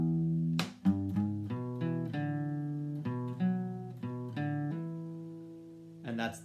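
Electric guitar plays a riff, a run of clear, sustained plucked notes in a steady phrase, repeated twice with a short strum-like attack near the start and end; no talking.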